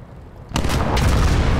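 A sudden loud gunshot cracks out in the video game Gates of Hell: Liberation, then a second blast rolls in, leaving a dense rumbling roar behind.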